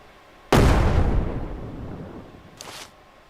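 A grenade detonates in the SurrounDead video game with a single loud, close boom that decays slowly over about two seconds, followed by a fainter, brief crack.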